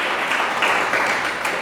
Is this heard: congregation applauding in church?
yes